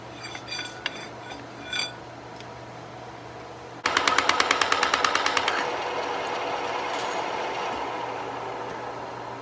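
Welding a chamfered steel joint for a C20 half-ton airbag conversion: after a few faint knocks, a loud burst of rapid crackling pulses starts and settles into a steady, sizzling hiss that lasts to the end.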